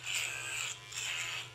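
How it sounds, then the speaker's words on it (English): An electric shaver buzzes in two short strokes through a coarse beard, struggling to cut, with a brief dip between, a raspy, faint, close sound. "I'm going to take just an electric shaver that I have, bust it all down"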